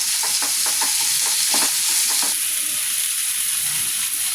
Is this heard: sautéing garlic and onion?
yes